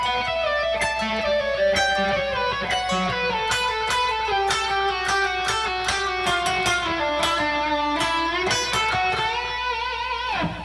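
Electric lead guitar plays the sliding section of a solo, a rapid run of notes with gliding pitch bends and slides, loud and alone throughout.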